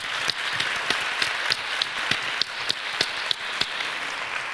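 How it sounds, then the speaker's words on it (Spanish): An audience at a literary conversation event claps for a speaker, with sharp individual claps in an irregular but steady patter, fairly close and without talk. "quiero otro aplauso para ella"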